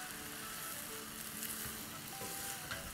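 Spinach and potatoes frying in a pan on a high-heat stove, a continuous soft sizzle and crackle close by with no talk, fairly quiet and even throughout.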